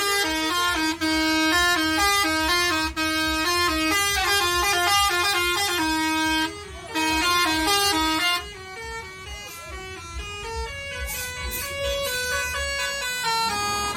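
A Hino RK bus reverses while its musical reverse horn plays a loud, bright melody of quick repeated notes. The tune pauses briefly a couple of times, and faint crowd noise sits beneath it.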